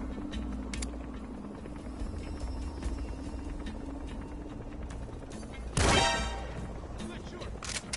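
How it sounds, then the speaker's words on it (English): Support helicopter arriving in Metal Gear Solid V: The Phantom Pain, its rotor and engine wash a steady layer beneath dense gameplay noise and gunfire, with one loud burst near the end. "Support helicopter has arrived."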